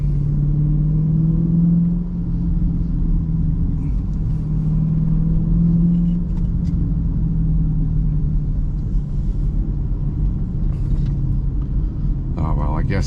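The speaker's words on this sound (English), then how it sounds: "guess at least cruising going slow, you can still hear that exhaust note." Chrysler 300 SRT cruising slowly on a damp road, its exhaust giving a steady deep low rumble heard from inside the car, with occasional speech over it.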